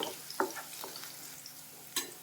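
Onions frying in a pan for a spinach palak fry, a quiet low sizzle broken by a few sharp clicks and scrapes of a spatula against the pan, no one speaking.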